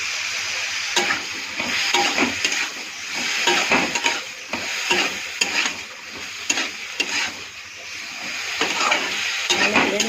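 Food with turmeric and salt is stirred and fried in a pan, continuous sizzling hiss broken by repeated scraping strokes of the spoon, close and fairly loud.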